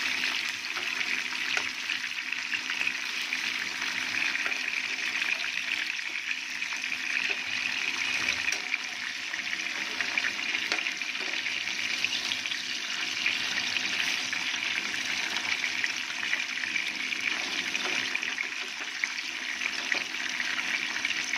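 Fish pieces frying in hot oil in a pan for a fish masala curry, giving a steady, close, continuous sizzle with faint crackles throughout.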